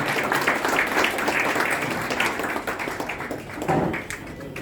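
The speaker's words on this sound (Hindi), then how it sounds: "तालियां का कोई कमी मत करे, पूरा जोर से बजाए प्लीज।" Sustained audience applause at a retirement party celebration, a dense steady wash of many hands clapping close by for several seconds, with a brief swell near the end.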